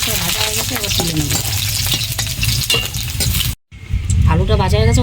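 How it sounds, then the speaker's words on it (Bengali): Potato pieces sizzle in hot oil while being stirred, a loud, close, continuous frying crackle with repeated scraping strokes, briefly cutting out before picking up again. "আলুটা আমার লাল লাল করে ভাজা হয়ে গেছে"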